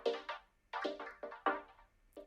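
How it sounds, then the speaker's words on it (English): Drums fed through a vocoder in Ableton give pitched, chord-like hits with a synthetic vocal timbre, a choppy rhythmic pattern of short tonal bursts separated by gaps, clear and alone. "how to use drums through a vocoder"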